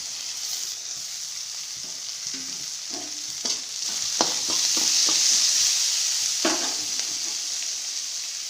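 Chopped onion and half a tomato fry together in oil in a pan, giving a steady close sizzle broken by scattered scraping and clicking stirs.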